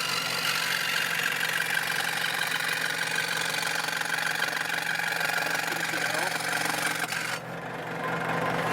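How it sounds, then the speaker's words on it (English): A power tool rough-cuts a wing spar for an RC model plane, a Ben Buckle Junior 60, giving a steady loud buzzing drone that runs on continuously and eases off slightly near the end. "just rough cutting out the spar"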